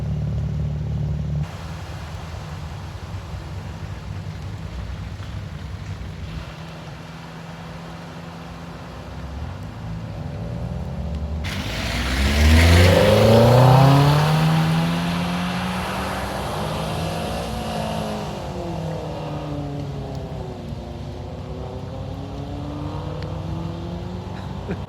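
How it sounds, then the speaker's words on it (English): A Fiat Panda 4x4 drives fast through a flooded road: steady road noise builds into a loud surge, with the engine revving and rushing spray midway, then settles back to a quieter hum. "We thought the best thing for this was to drive through the flooded road as quickly as we could."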